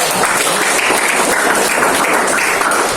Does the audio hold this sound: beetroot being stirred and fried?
no